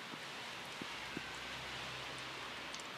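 Steady late-summer rain falling in a backyard vegetable garden, a soft continuous hiss with a few faint drop taps and distant rustles, no voices.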